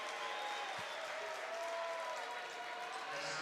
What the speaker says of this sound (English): That will get the crowd going.